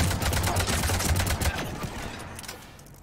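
Heavy gunfire in Mass Effect 3, a dense volley of rapid shots rattling loudly for about a second and a half, then trailing off into scattered, fading bursts.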